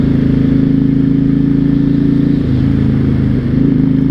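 A 2006 Honda VTX1300 motorcycle engine rumbles loud and close while riding, a deep, steady low throb with slight dips in pitch near the end and no speech.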